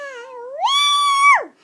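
A two-year-old child imitates a cat with one long, drawn-out meow that rises in pitch, holds, then drops away, loud and close with no other talk.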